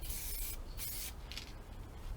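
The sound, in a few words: spray painting a handmade guitar outdoors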